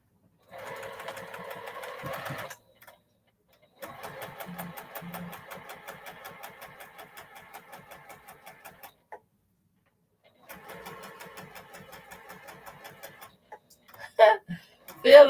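A sewing machine stitches around a fabric circle with a quarter-inch seam allowance, running in three steady, whirring, ticking stretches with short pauses between them, then a few louder knocks and handling sounds at the end.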